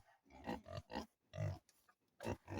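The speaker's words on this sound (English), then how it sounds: "So if anybody knows what kind of pigs we have" Pigs on a farm grunt and snort close by in short, irregular bursts separated by brief pauses.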